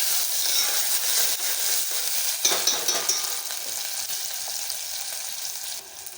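Soybean chunks fry in a pan for pulao, giving a steady close hiss of sizzling oil with occasional scraping stirs and no voices.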